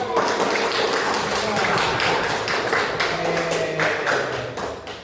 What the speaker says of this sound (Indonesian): kita beri tepuk tangannya